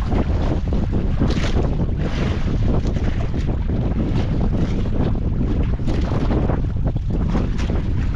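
Strong wind buffets the microphone in a steady roar, with gusts rising and falling over a broad rushing noise, likely outdoors near water.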